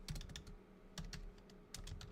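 Quick bursts of keystrokes on a computer keyboard rattle in uneven clusters, soft and close, with short pauses between runs of typing and a quiet background hum.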